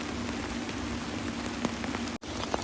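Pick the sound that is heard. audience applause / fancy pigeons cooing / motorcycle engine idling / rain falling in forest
rain falling in forest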